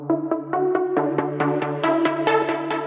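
Trance pluck synth playing a quick run of short bright plucked notes over a steady sustained bass tone, the rhythmic pattern rising slightly in pitch, clean and upfront with no voices.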